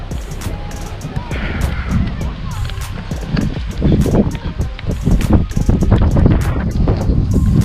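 Strong, cold wind in Winnipeg, Canada buffets the microphone in rough, continuous gusts, with a voice speaking briefly underneath.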